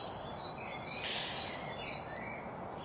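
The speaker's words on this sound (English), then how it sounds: "this is what you hear in the background, these lovely birds, and they are here to give you this pleasure of sounds." Faint birdsong drifts in the background of a quiet outdoor setting, with light chirps and a brief brighter call near the middle over a soft, steady ambience.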